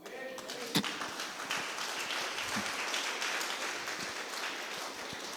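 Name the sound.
audience clapping for the Lord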